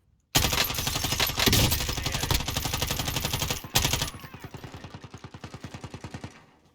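Rapid automatic gunfire in Call of Duty Warzone, a loud, dense stream of shots in long bursts that ends in a series of fading, evenly spaced shots.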